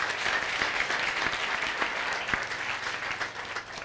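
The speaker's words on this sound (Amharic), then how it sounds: "አጨብጭቡ ለጌታ" A church congregation applauds for the Lord, with steady, dense clapping throughout at moderate loudness and faint voices mixed in.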